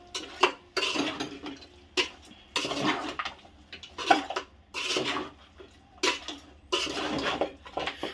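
A spoon scrapes and clanks against a pot while spicy goat head meat curry is mixed, about a dozen irregular stirring strokes with brief pauses between, close and moderately loud.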